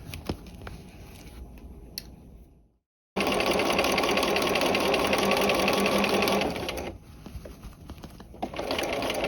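A sewing machine stitching a peplum sleeve cuff, a brief run of whirring and clicking, a silent break, then a loud sustained burst of fast stitching that stops with a few soft clicks and then resumes.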